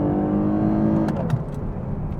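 A 2023 Lexus IS 350 compact sport sedan accelerating, its engine giving a steady, full-bodied drone heard from inside the cabin, with a brief shift in tone partway through and a few faint clicks, no talking.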